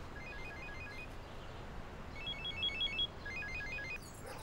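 An old telephone rings in short trilling bursts, fairly faint against background hiss and growing slightly more prominent toward the end. No one speaks.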